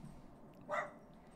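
A single short dog bark, faint and distant, rising briefly out of quiet background noise inside a home.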